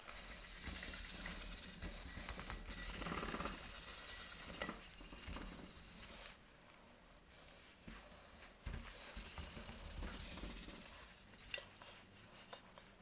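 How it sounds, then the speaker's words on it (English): Wet sanding of a primer coat with 1000 grit paper on a 1950s AGM KampLite LRL-21B lantern gives a steady, close hissing scrub in long strokes that pause and then resume. "I'm going to wet sand it with some 1000 grit"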